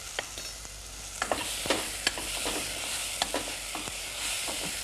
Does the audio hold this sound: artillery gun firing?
no